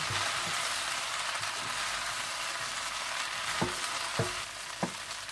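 Boiled rice with green chillies and green onions is stir-fried for Schezwan rice, a steady close sizzle running throughout with a few sharp spatula knocks against the pan near the end.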